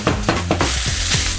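Ground beef browns in a hot pan for a lasagna, a loud close sizzle with a few sharp scraping stirs of a utensil, no talking.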